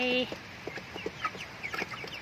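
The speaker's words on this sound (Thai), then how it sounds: "เก็บผักเสร็จแล้วมาแวะให้อาหารไก่แล้วก็เดี๋ยวไปเก็บไข่" Chickens on a Thai vegetable and asparagus smallholding clucking at feeding time, several birds giving short, scattered calls at close range over a quiet outdoor background.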